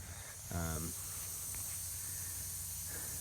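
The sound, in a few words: MP rotator sprinkler spraying water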